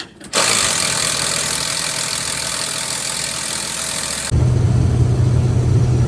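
A farm engine turns over during harvest, cranking with a dense, steady mechanical roar that shifts abruptly into a deeper, heavier running rumble near the end, loud and close throughout.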